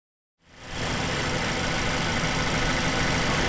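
A car engine left running at idle after a throttle snap, a steady close rumble that starts abruptly and holds even and loud with a faint vibrating hum throughout.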